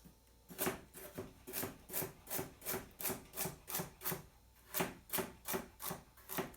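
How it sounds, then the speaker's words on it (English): A knife chops vegetables such as carrot and potato on a cutting surface in quick, evenly spaced strokes, about two per second, with a brief pause midway, close and clear with no talking. "I'm going to chop this one up. I like to do my vegetables first."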